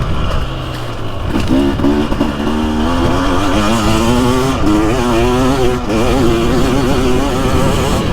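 A 2023 TBI 300 two-stroke dirt bike engine revs close and loud at partial throttle, the pitch climbing and wavering in repeated pulls over a rough, steady idle.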